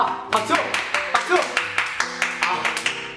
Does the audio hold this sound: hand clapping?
yes